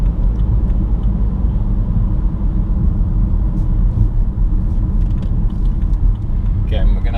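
A 2016 BMW 320d ED Efficient Dynamics diesel saloon drives on the road and accelerates, giving a steady, loud, low engine and road rumble throughout from inside the cabin, with a brief rattle near the end.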